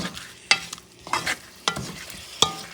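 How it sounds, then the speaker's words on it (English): Shrimp and pigeon pea stew being stirred in a pot, with four sharp scraping knocks spaced about a second apart over a soft bubbling sizzle. "Move things around a little bit. Mix out those flavors well."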